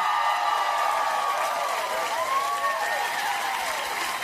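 Studio audience applause on a late-night talk show, a full, loud roar of clapping and some cheering, with tonal whistling or whooping sweeping through the middle.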